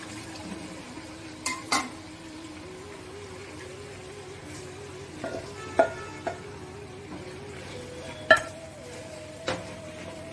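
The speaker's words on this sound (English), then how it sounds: "Let the masala cook a bit" Ground masala and vegetables simmer in water in a cooking pan for a brown chickpea curry, giving a low steady bubbling with a few sharp clinks and taps of a spoon against the pan, and no voices.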